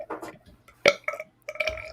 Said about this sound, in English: Oh, nothing like a good communal belch, really.